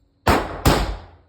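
Two sharp, loud suppressed shots from a Daniel Defense Mk18 rifle fitted with a SureFire RC3 suppressor, about half a second apart, each with a short decaying tail and no talk.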